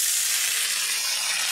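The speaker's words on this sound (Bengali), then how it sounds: "এই আলুগুলো আমি এখন খুব ভালো করে ভেজে নেব।" Boiled potato pieces fry in hot oil, giving a steady close sizzle and hiss with no voices.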